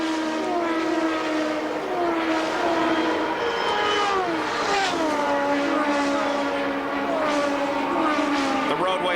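IndyCar race cars of the 1991 CART season scream around the Phoenix oval, their high engine notes rising and falling as they sweep past one after another, with a commentator talking over the racing.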